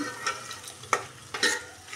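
Onions sizzle softly in a hot pan while a utensil stirs them, giving a few scraping strokes over the steady frying hiss.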